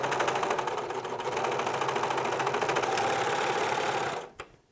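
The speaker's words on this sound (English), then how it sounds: "Finally, actually serging these two flaps together so it's a real pocket." A serger stitches two jacket pocket flaps together with a fast, rhythmic mechanical chatter, loud and close, running steadily before stopping abruptly near the end.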